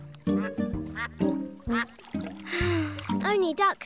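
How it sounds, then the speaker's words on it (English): Several ducks quack in a bright, cartoonish series of nasal calls near a watering spot in a Miffy children's cartoon, with a short watery splash partway through and voices talking between and around the quacks. "Only ducks here. No zebras."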